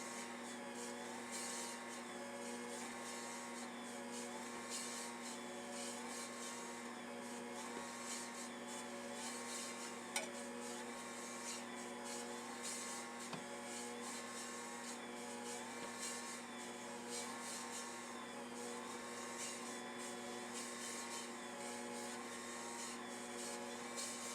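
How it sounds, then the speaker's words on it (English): An Ankarsrum Assistent Original stand mixer kneading pizza dough, a steady motor whine with a faint rhythmic wobble as the dough turns, constant and unbroken for the whole stretch, with no voices. "we got the pizza dough going in the Ankarsrum mixer"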